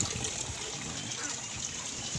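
Strong water from a tap fed by a well gushes in a steady, even hiss with a faint trickling texture and no pauses.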